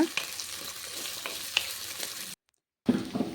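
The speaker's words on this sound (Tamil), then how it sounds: "இது எல்லாமே நல்ல எண்ணெயில் வதங்கி வரணும்" Brinjal kara kuzhambu ingredients sautéing in sesame oil in a clay pot, a soft close sizzle with stirring scrapes and clicks, briefly cut to silence before the sizzle resumes.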